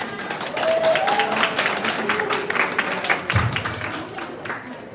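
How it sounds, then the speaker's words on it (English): A live audience claps steadily through a sustained round of applause after a cooking and book presentation at a farm event, with voices talking over the clapping. "Again, a round of applause for Panamanahan, ladies and gentlemen."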